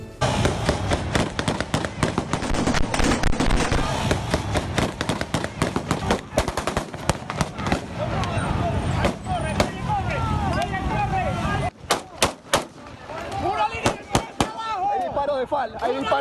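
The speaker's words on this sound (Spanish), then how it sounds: "Hay disparo de FAL." Rapid bursts of loud FAL rifle gunfire crack repeatedly, dense at first then thinning into scattered sharp shots, with distant voices and street noise between, in Venezuela.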